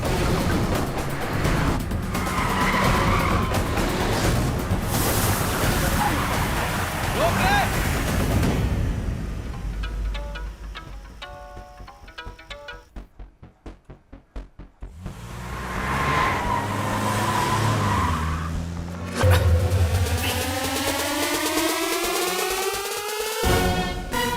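A car engine revving hard with tires skidding, loud and continuous, with shouting and dramatic music over parts of the passage and a brief quieter stretch in the middle.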